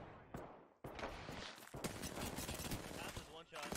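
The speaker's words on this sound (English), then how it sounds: "That was one shot." Video game gunfire, a dense run of rapid, loud shots with a few sharp single cracks, heard under players talking.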